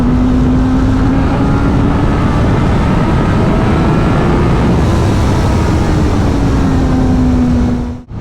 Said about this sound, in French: c'est bien un moteur qui a un petit peu d'allonge